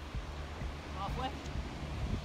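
Wind gusting across a beach during golf practice in sand, a steady broadband rumble and buffeting on the microphone throughout, with faint voices talking over it.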